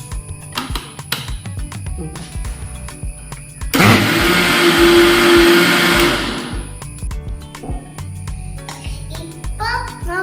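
A blender whirs loudly at full speed for about two seconds, mixing fresh fruits with vanilla essence, then cuts off abruptly; a voice and household noise come before and after the burst.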